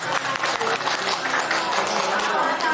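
An audience of teachers at a school seminar at SMA Negeri 3 applauds. A dense, steady wash of clapping holds at an even level for the whole stretch, with murmuring voices blended in.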